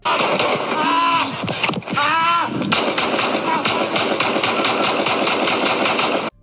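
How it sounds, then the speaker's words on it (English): Police shooting: after a brief voice, a rapid, loud barrage of gunshots rings out, sharp reports repeating in quick succession for several seconds, close and dense. "just listen closely to the break and then the barrage of shots after"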